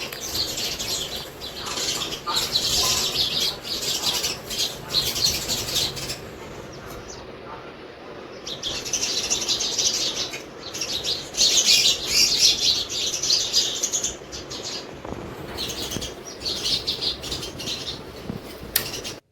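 Sparrows eating rice chirp steadily in a busy, bright chorus with occasional wing flutters, close by and continuous with brief lulls, no talking.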